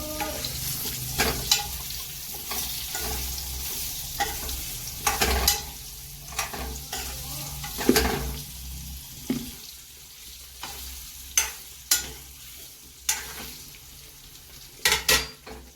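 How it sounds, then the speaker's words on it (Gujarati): Amla (Indian gooseberry) pieces are stirred in hot oil for a pickle, with steady frying sizzle and repeated clinks and scrapes of a spoon against the pan, no talking. "હવે આપણે જે આ આંબળાને ટુકડા કરીને રાખ્યા છે તેને આમાં એડ કરી દઈશું। આ રીતે આપણે આને હલાવી લઈશું।"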